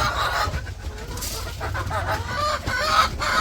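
Chickens cluck busily in a chicken house at feeding time, a close, continuous chorus of overlapping calls with an occasional crow-like cry.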